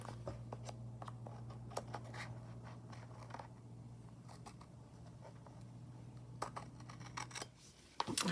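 Scissors snipping a little off the bottom of a Thanksgiving trifle craft, a run of quiet, close crisp cuts in bursts over a steady low hum, with no talking.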